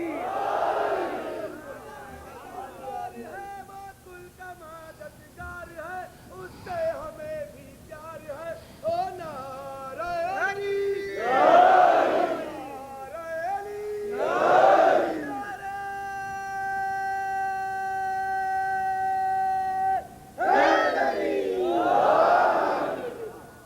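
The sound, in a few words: crowd shouting the slogan Naara-e-Haidari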